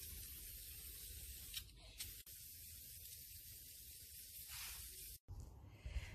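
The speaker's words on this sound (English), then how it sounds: "I'm gonna go ahead and spray that" An aerosol spray can hisses in long continuous bursts, close up, with brief pauses between sprays and no talking.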